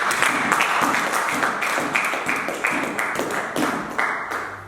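A church congregation claps together in a steady, rhythmic beat, a dense wash of hands filling the room for several seconds with no clear voices over it.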